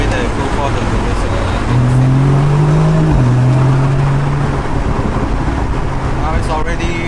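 A car engine drones steadily in third gear during an in-car drive, its low hum rising slightly in pitch midway, with road rumble and a bumpy ride underneath; someone talks over it.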